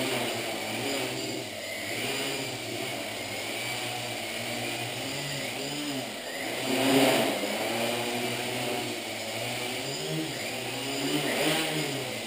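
An RC Logger RC Eye 650 quadcopter drone hovers at close quarters indoors with a steady, fairly faint buzzing whine of spinning rotors, and its pitch wavers as it holds position and briefly swells louder.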